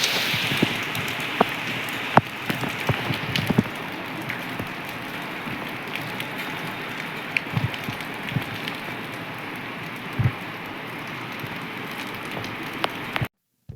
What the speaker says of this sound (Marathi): हे बघा जोरदार पाऊस चालू झालाय